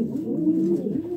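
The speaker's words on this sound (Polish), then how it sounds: "gołąbki, bo gruchają." Homing pigeons coo close by in a low, throaty, continuous warble that rises and falls, heard alone without talk.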